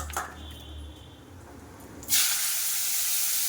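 Potato and okra dropped into hot oil with panch phoron and radhuni, heard as a sudden loud hiss that bursts in partway through after a quieter stretch and then keeps sizzling strongly to the end.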